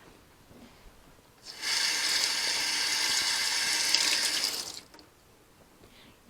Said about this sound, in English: Now it's a little sticky on the knife and it's kind of sticking, so I'm going to rinse it.